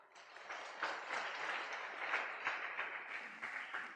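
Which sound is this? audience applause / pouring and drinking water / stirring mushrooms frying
audience applause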